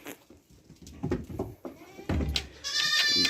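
A nearby Kazakh goat bleats, a loud nasal cry near the end, after a few soft shuffling and rustling sounds.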